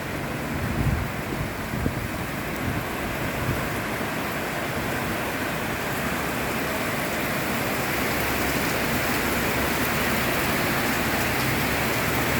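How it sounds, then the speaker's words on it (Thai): Heavy rain pouring steadily in Sakon Nakhon, Thailand, a dense continuous hiss with some wind noise on the microphone, close and loud throughout with no talk. "ฝนตกหนักตกแรงค่ะ"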